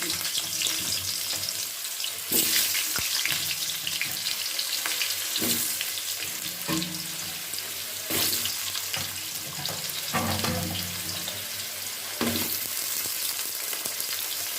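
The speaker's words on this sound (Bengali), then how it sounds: "আলুগুলোকেও আমি একদম লাল লাল করে ভেজে নিচ্ছি" Cut potatoes fry in hot oil for a Bengali tilapia fish curry, making a loud, continuous sizzle close by with periodic surges as the pieces are stirred and turned.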